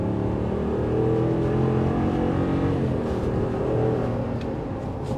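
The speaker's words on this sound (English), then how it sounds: "That 410 horsepower really gets this big truck moving." A 2019 RAM 2500 Power Wagon pickup's 410-horsepower V8 roars under acceleration, a deep, sustained rumble that rises and swells over several seconds with no talking.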